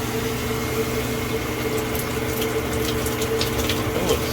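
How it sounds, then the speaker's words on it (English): A high-pressure RV shower head sprays a steady, soft stream of water, a continuous hissing rush with a low hum beneath, close and unbroken. "This is a very nice shower head."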